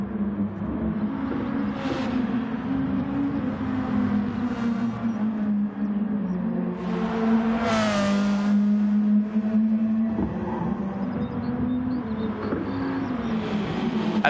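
Race cars lapping a Gran Turismo Gr.2 league circuit, a steady loud engine drone with one car sweeping past mid-way in a rising and falling whine, continuous throughout with no talk.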